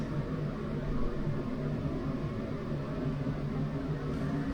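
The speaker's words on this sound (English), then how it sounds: "You can hear that aircon in the background." A steady, even hum of a hotel room air conditioner running continuously, with a low drone and broadband hiss and no other sounds.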